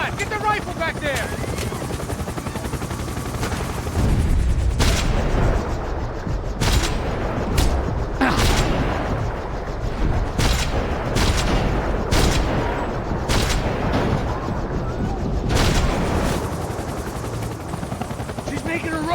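Rifle gunfire in the Max Payne 3 video game: repeated sharp bursts of shots, fairly loud, over a steady helicopter rotor drone, with voices shouting in between.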